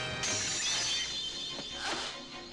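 Breakaway glass shatters in a film stunt scene, a bright crash followed by scattered tinkling fragments and a second smaller burst, fairly close and loud.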